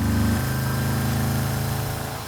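Air-cooled engine of a 1974 VW Beetle running with a loud aftermarket exhaust, a steady close throbbing drone that eases slightly after a brief opening surge, with no voices.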